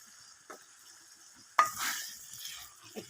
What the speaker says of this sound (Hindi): अच्छी तरह भूनूँगी आलूओं को, तकरीबन 2 मिनट में भूनूँगी आलूओं को